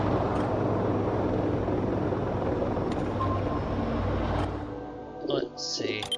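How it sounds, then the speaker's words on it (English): Steady low engine-like drone of a flying drone in the space-station game Voices of the Void, a dense rumble filling the background throughout, easing near the end as brief other sounds appear. "I can hear the drone."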